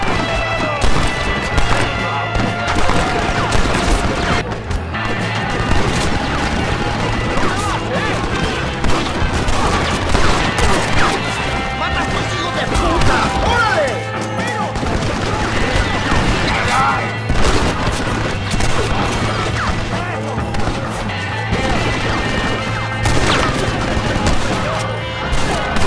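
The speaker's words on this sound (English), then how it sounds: "They have a machine gun!" Dense, continuous gunfire and explosions fill a Red Dead Redemption shootout at an Allende mansion, with a machine gun rattling among overlapping shots and crashes at steady high loudness, with game voices shouting over the battle.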